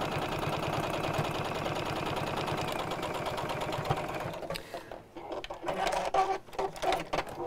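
A sewing machine stitches around the head of a trapunto quilted piece, a fast steady mechanical whirr that runs for several seconds, then stops, leaving quieter clicks and handling.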